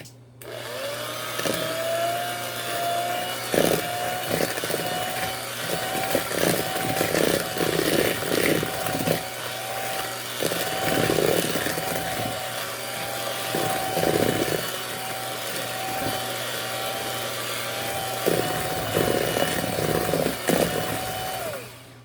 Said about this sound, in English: Got my blender right here.